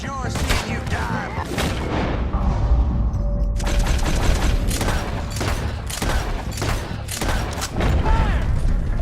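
Dense Red Dead Redemption 2 gunfire fills a game battle: rapid overlapping rifle and pistol shots in irregular volleys, loud and close, over a constant rumbling din, with a brief lull before the shooting resumes even harder.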